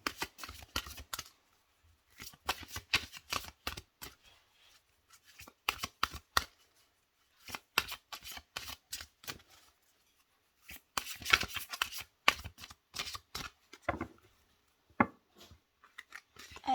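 Oracle cards being shuffled and drawn by hand, heard as close, crisp riffling and flicking bursts separated by short pauses, with no talking.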